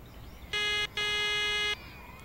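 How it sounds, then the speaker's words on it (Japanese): A strange electronic buzzer in the video game Tokimeki Memorial 2, two flat, harmonically rich tones, a short one then a longer one, loud and clear over quiet background. "変なブザーだな"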